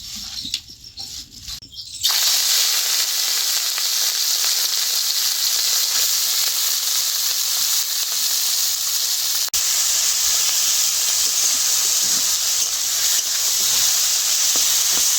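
Prawns coated with salt and turmeric hit a hot wok, a sudden bright sizzle that holds steady and loud for the rest of the clip, with no voices.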